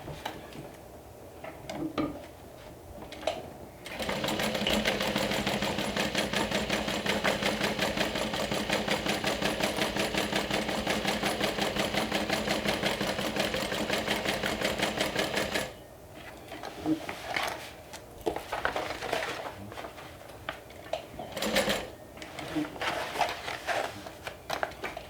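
A sewing machine runs steadily for about twelve seconds, stitching a seam through webbing with a 3/8 inch allowance, its fast mechanical chatter close and continuous, with quieter handling sounds before and after.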